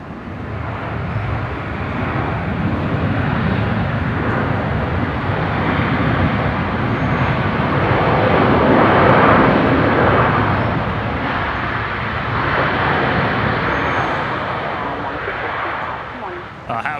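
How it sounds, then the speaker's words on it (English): A USAF C-17 lands at Brisbane Airport and roars under full reverse thrust, a loud, sustained rumble that swells and slowly fades, with people talking over it and radio chatter. "Full reverse thrust there. And making the high-speed exit."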